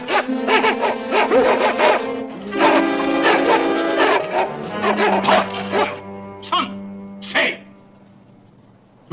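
Several dogs bark repeatedly in loud, rapid bursts, some overlapping, then taper off to a few isolated barks before falling silent.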